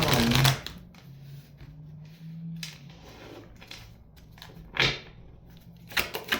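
Cards are shuffled in a few quick riffling bursts, close and crisp, with quieter pauses and faint handling noises between them.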